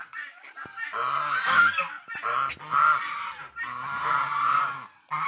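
A small flock of five farm turkeys calls out in loud, close bursts of gobbling, separated by brief pauses.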